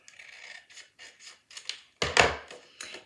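Scissors cutting the small flaps off a cardboard box: a series of short dry snips and rustles, close and distinct, ending in a couple of louder crunching cuts.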